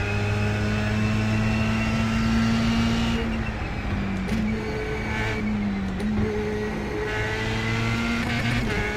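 Formula 3 race cars at Imola in iRacing, a loud buzzing engine note held high and then shifting through gears and dips as the cars pass, steady and dense with multiple engines, no talking.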